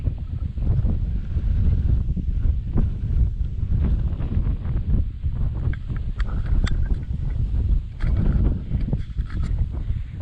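Steady, strong wind buffeting the microphone on the Muthukoramala hilltop during a trek, a continuous low roar with gusty swells and occasional rustling clicks, no voices.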